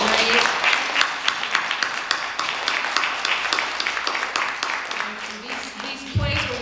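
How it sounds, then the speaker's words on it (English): An audience at a breast cancer awareness program in a library applauds the women standing up, steady clapping that stays close and fairly loud, with a voice speaking near the end. "just give them a round of applause for being brave?"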